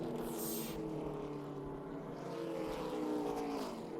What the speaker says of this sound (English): as the cars race off pit road